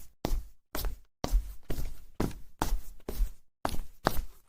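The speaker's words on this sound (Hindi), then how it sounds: "फिर बाहर गलियारे से कदमों की आवाज आई।" Footsteps echo along a corridor in a horror story: about nine evenly spaced, dull thuds, each a short burst of sound with clear gaps between them, heard alone.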